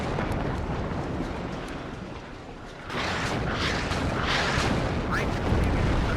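Artillery shells land in WARNO, a dense low rumbling barrage of distant booms that swells after a brief lull into heavier overlapping impacts, rolling and continuous rather than crisp individual blasts.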